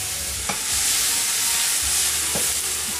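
Seeded, chopped jalapeno peppers and meat sizzle loudly in a hot pan as filling for Moroccan stuffed bread, a steady bright frying hiss with a few soft stirring knocks.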